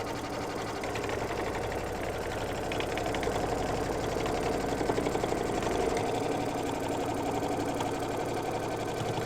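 Sewing machine stitching a mug rug, a steady close mechanical whir with a rapid needle rhythm, running at speed throughout and dropping in pitch briefly near the end.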